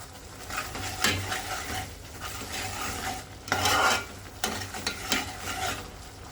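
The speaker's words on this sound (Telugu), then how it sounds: "ఈ పేస్ట్ ఉడుకుతుంది కదా" An onion and tomato paste cooks in a pan for Andhra-style stuffed brinjal curry, with a soft steady sizzle and several scraping stirs of a utensil against the pan, close up and with no talking.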